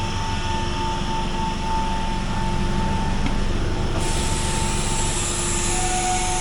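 A MEMU local train on the Azimganj–Rampurhat line pulls out of Barola station with a steady loud rumble, humming traction motors and a sustained tonal whine, heard from on board, with no talking.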